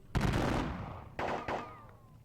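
Volleys of musket gunfire from a unit in a Napoleonic Battles wargame set at Austerlitz: a long, loud crackling burst, then two shorter sharp volleys a second later, fading into a faint ringing tail.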